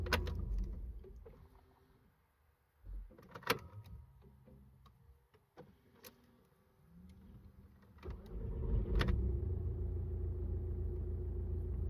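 Audi A3 engine with a warm-start problem cranks with a few irregular mechanical clicks and whirs, then catches and settles into a steady low idle rumble that grows louder toward the end.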